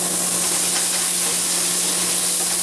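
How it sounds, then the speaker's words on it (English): A hot pan sizzling loudly while burgundy wine is poured in to deglaze it. A dense, steady hiss of spitting liquid fills the whole stretch, heard close up and without any talk. "we're going to deglaze the pan with the burgundy"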